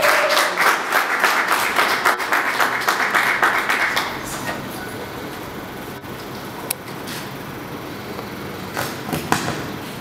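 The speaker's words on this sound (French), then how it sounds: "On peut l'applaudir," Audience applause at an award ceremony, a dense burst of clapping for the first four seconds that thins to scattered claps over a quieter room.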